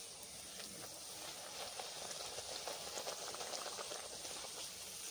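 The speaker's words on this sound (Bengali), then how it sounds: "লুচিগুলো ভাজতেও খুব একটা বেশি সময় লাগবে না, খুব কম সময়ের মধ্যে হয়ে যাবে।" Luchi made with mango, deep-frying in hot oil, gives a steady, even bubbling hiss that holds throughout at moderate loudness, with no voices.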